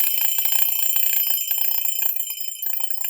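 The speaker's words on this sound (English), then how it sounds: "An example of this would be your alarm clock waking you up in the morning." A bedside alarm clock rings with a steady, bright electronic beeping that stays loud and close through the whole stretch, tapering slightly near the end.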